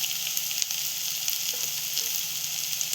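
A pinch of asafoetida drops into hot oil for a drumstick vegetable curry, giving a steady, bright crackling sizzle with small pops, close and continuous throughout with no voices.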